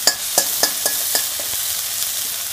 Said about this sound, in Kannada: ಶುಂಠಿ ಚೆನ್ನಾಗಿ ಹೀಗೆ ಫ್ರೈ ಮಾಡ್ಕೊಳ್ಳಿ